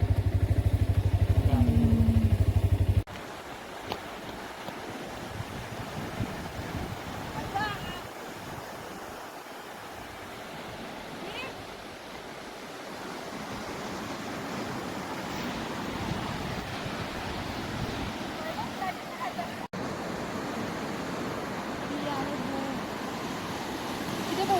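Ocean waves wash onto a beach at Dapoli, heard as a continuous surf rush mixed with gusty wind buffeting the microphone, with a louder rumbling stretch at the very start.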